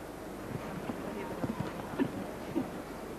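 Horse hooves thud across the ground during a show jumping round, a few soft, uneven beats heard under a commentator's steady talk.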